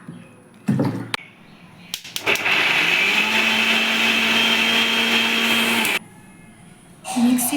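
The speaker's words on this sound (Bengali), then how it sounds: "মিক্সিতে আমি পেস্ট করে নিয়েছি এরকম একদম মিহি পেস্ট করতে হবে" A mixer grinder whirs loudly for about four seconds, blending green peas, green chillies and ginger with a little water into a fine paste, framed by short clatters and brief motor bursts before and after.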